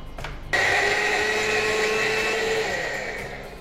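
A kitchen mixer grinder starts abruptly and runs at steady high speed, grinding a thick green masala for a Mangalorean egg curry. The whir is loud, close and continuous, its pitch easing slightly toward the end, with no one talking.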